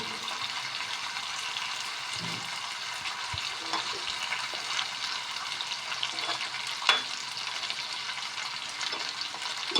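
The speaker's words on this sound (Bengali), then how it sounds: "ভালোভাবে আমি ভাজা করে নিচ্ছি বোয়াল মাছের পিসগুলো" Pieces of boal fish fry in oil in a pan with a steady close sizzle, a few stirring clinks and scrapes breaking through now and then, no voices over it.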